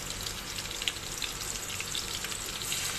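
Tomato sautéing in a pan for a simple tomato pasta gives a steady, even sizzle with soft crackling pops throughout, fairly quiet and close, with no voices.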